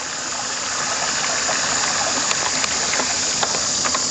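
A bicycle splashes through flood water on the Moreton Bay Cycleway, a steady wash of moving water with small splashes and faint clicks, no voices.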